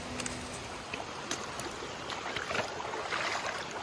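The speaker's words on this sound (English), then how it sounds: "It wouldn't be the Forney Creek Trail if you weren't crossing the stream a bunch of times." Stream water on the Forney Creek Trail in the Smokies rushes steadily and close by as it is crossed, a continuous broadband wash with small splashes and no talking.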